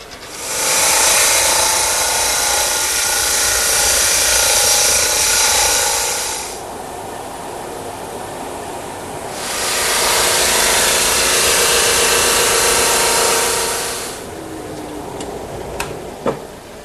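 A thickness planer takes light passes on wood at close range, two loud sustained bursts of high, whining cutting noise separated by a quieter machine idle, then settling to the idling hum with a few small clicks at the end.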